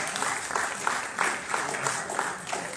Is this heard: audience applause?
yes